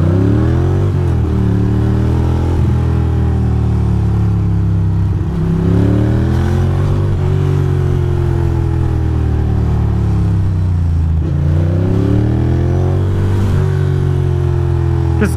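A Ducati Monster motorcycle rides along a New York City street, its engine repeatedly revving up and easing off in a steady gun-it-and-slow rhythm, loud and close with wind and traffic noise.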